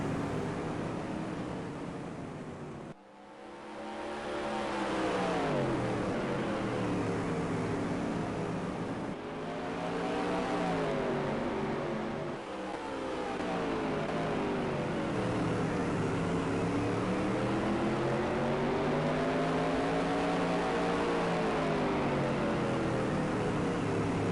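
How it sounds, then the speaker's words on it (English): Simulated supermodified race cars lapping Jennerstown Speedway in NASCAR Heat, a dense, continuous engine roar with pitch rising and falling as the cars pass, loud and steady, with a brief dip near the start. "this is the 16th Annual Randy Witkum Memorial at Jennerstown Speedway. NASCAR Heat Supermodified Sim Racing."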